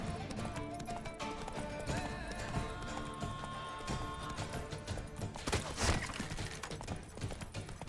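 Horse hooves galloping in the video game The Witcher 3, a busy rapid clip-clop under game music and ambience, with a louder crash of sound about two-thirds through.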